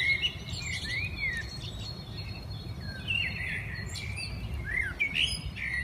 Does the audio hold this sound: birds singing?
yes